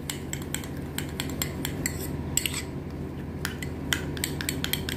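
Colgate toothpaste and Vaseline being mixed together in a small dish, giving a steady run of close, quick scraping and clinking taps of a utensil against the container, with no voices.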